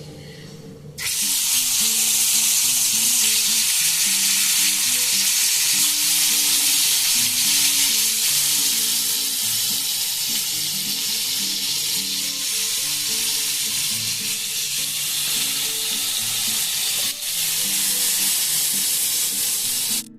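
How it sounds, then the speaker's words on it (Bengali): Hilsa fish frying in hot oil, a steady loud sizzle and hiss that runs without a break, with faint stirring underneath and no talk. "মাছগুলো ভাজা হয়ে গেছে, আমি তুলে দিচ্ছি"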